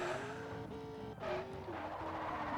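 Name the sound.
car racing and skidding in Forza Horizon video game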